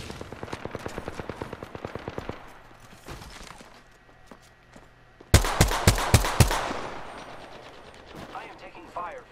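Gunfire bursts in the battle royale game Apex Legends on World's Edge, with a rapid string of loud close shots near the middle over game ambience, following earlier lighter sharp taps.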